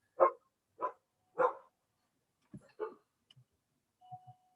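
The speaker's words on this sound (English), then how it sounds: "I think that was a dog." A dog barks three times in an even rhythm, clear and moderately close, followed by a few softer, shorter yips and faint noises, with no talking.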